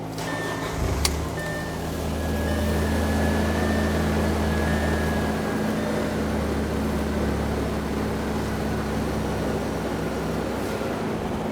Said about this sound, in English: Now we're going to start the vehicle to purge the lines to get the pressure off the lines.